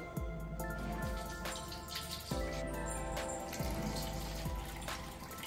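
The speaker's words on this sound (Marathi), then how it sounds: "आता हे आपण 2-3 वेळा गाळून घेणार आहे चाळणीने" Solkadhi is poured and strained through a sieve, trickling and dripping softly and steadily with faint liquid splashes and a few small knocks.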